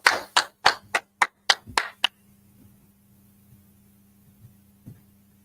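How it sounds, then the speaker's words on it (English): About eight sharp, separate claps at a quick, slightly uneven pace, then the room falls to a low electrical hum with faint scattered noises. The claps come at a brotherhood gathering. "Clap it up."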